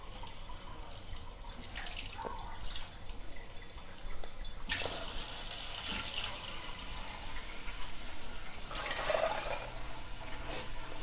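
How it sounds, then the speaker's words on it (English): Water pours into a cooking pot for vegan queso, a soft, continuous running stream with splashing and trickling that swells partway through, fairly quiet and close, with no voices. "And then we're going to add water."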